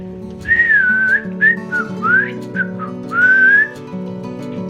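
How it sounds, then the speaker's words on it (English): A person whistles a wavering, shrill tune in several short rising and falling phrases, clear and close, over a steady low background hum. "Can you whistle? Lick your lips and put your mouth like this."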